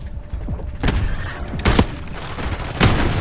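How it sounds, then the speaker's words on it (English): Grenade blast in Call of Duty Black Ops 6: several loud, sharp booms and thuds cut through continuous low battle rumble, with distinct heavy hits near the start, middle and end. "Oh my god, a fucking grenade."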